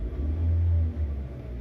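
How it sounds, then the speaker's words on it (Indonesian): A Toyota Avanza's K3-VE engine is given a short blip of throttle: a low, close rumble swells to a rev, eases off, then settles back to a steady idle, with no voices. "Kita gas sedikit."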